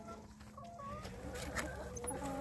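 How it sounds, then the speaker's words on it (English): A small chicken makes soft, brief clucks and peeps amid a murky, low-level farmyard background, fairly faint with a steady hum underneath. "Remember that little chicken from yesterday?"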